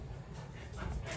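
Excited household dogs whimpering and yipping at home, a short muffled burst of noise heard close by without clear barks.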